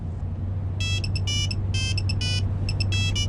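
A mobile phone rings with an incoming call inside a moving car. Repeated bright, electronic ringtone bursts come in a regular pattern over a steady low engine hum.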